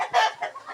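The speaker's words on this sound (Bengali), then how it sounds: "এই দেখেন মুরগি কোথায় উঠে রয়েছে" Chickens at a large poultry farm give a short burst of clucking, a loud squawk followed by softer, broken clucks close by, with no talk.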